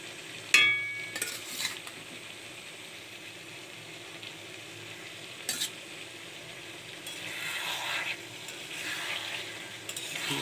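Fried potatoes are stirred in a pan, soft scraping and spoon knocks over a low, steady sizzle, with a few sharper clinks and a louder swell of frying toward the end, no talking.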